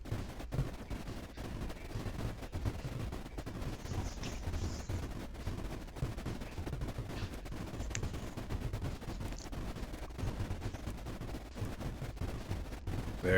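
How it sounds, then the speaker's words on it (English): Continuous rocket and weapon fire from the strategy game Creeper World IXE, a dense, steady barrage of rapid booming impacts and crackles running throughout with no pauses. "Our rockets are getting in there now."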